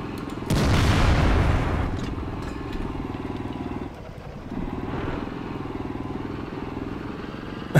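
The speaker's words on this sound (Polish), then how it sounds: "Daj tym light traktorem, zobaczymy, czy on podobnie będzie jechał." A light tractor drives in a tank video game: a loud burst of engine roar at the start settles into a steady throbbing motor drone, briefly dipping midway before resuming.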